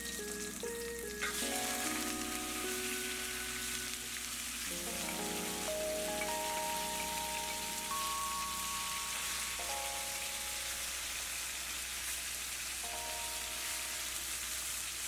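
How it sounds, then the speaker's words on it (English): Marinated shrimp frying in avocado oil in a saucepan, a steady close hiss and sizzle running the whole time with music playing over it. "Now the shrimp is ready. It's been marinated for 30 minutes, so now I'm going to fry it."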